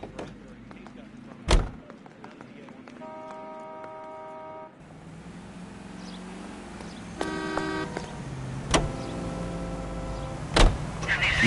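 A car drives in the 1940s Los Angeles detective game L.A. Noire, with a steady engine drone, horn toots and several sharp thumps, while dialogue and music tones play over it.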